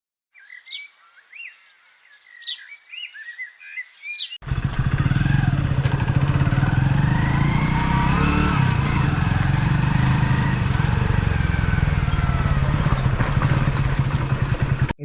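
Birds chirp sparsely in a quiet spot, then a motorcycle arrives abruptly and its engine runs loud and close, revving steadily for the remaining ten seconds.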